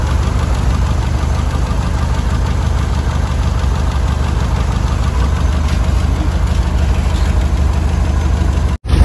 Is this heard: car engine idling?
yes